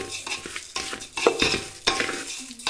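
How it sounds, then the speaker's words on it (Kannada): Rice being stirred with masala and oil in a pan for pulao, giving a steady scraping stir with a light sizzle and a few sharper utensil knocks against the metal, close and fairly loud. "ಅಕ್ಕಿ ಹಾಕಿದ ನಂತರ ಅದನ್ನು ಈ ಮಸಾಲೆಯೊಂದಿಗೆ ಚೆನ್ನಾಗಿ ಮಿಕ್ಸ್ ಮಾಡ್ಕೊಳ್ಳಿ"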